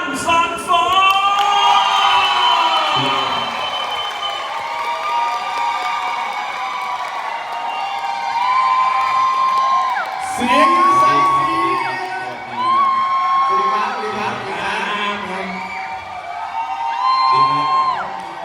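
A studio crowd at a live singing show welcomes a performer with loud cheering, whoops and shouts over scattered applause. Excited voices rise and fall in waves, peaking again near the end.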